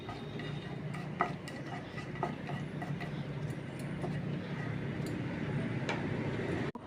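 Onion, ginger and chili paste stirring in a hot pan over tempering spices, a steady low sizzle with scattered clicks of a spoon against the pan throughout.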